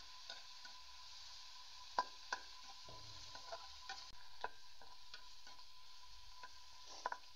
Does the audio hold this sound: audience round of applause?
no